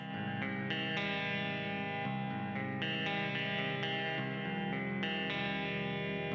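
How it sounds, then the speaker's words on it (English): Clean electric guitar plays a melodic lead line with reverb trailing each note, steady and sustained throughout. "Starting with some cleaner leads with a bit of reverb."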